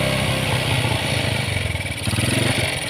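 A Honda Supra X 125 motorcycle engine, one that is hard to start and sputters under throttle, runs steadily close by, held at around 2000 rpm with a slightly uneven, pulsing beat.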